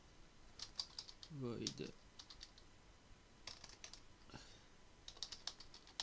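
Keys clatter on a computer keyboard as Java code is typed, quick bursts of close clicks with gaps between them, while someone speaks briefly in the middle.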